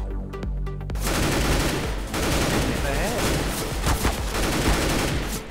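Rapid sustained gunfire from a CS:GO match, a dense loud fusillade of rifle shots that starts after a brief musical lead-in and continues without pause, with voices mixed underneath.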